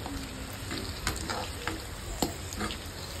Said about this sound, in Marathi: 1 ते 2 मिनिटं व्यवस्थित तेलामध्ये तळून घ्यायचे